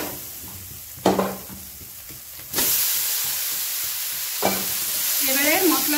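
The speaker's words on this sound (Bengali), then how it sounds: "এবারে আমি আগে থেকে ভেজে রাখা কুমড়ো আর আলুটা দেব।" Pre-fried pumpkin and potato drop into hot spice paste in a pan, with sharp bursts of sizzling as pieces land and a loud, steady frying hiss that continues while the mix is stirred.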